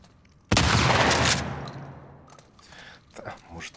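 A single sudden explosion in The Last of Us Part II, a loud close blast that hits at once and rolls off in a long fading rumble with faint debris after it.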